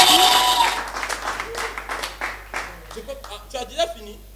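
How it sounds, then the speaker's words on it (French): At a French comedy show, a burst of audience clapping starts loud and quickly thins into scattered claps, with voices and laughter-like sounds mixing in as it fades. "Ça mérite des applaudissements pour lui quand même"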